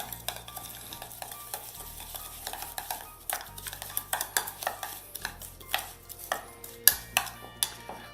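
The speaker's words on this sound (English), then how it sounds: "Gonna give that a whisk just to mix it up." Onion, garlic powder and spice mix whisked in a bowl, a rapid run of light clicking and scraping taps against the sides, fairly close and with no talk.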